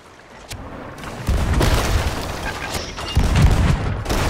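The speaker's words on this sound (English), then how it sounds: "Guy, go on the cannons" Deep booming ship cannon blasts in the video game Sea of Thieves go off in a series, two heavier thuds standing out among crackling bursts in a noisy battle.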